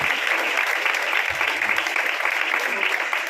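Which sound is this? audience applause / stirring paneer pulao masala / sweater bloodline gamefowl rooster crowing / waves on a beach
audience applause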